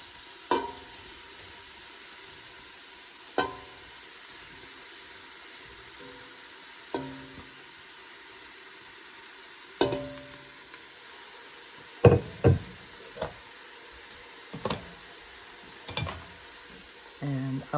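Beef and vegetables cook in a soup pot, a low faint sizzle running beneath a series of sharp, separate knocks and clatters of a utensil against the pot, close and spaced a few seconds apart.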